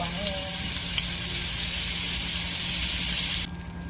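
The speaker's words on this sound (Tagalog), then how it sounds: "maglagay na tayo ngayon ng butter para mabango" Butter sizzles and fries steadily in a pan while cooking creamy mixed vegetables: a dense, continuous crackling hiss close to the microphone that drops off slightly near the end.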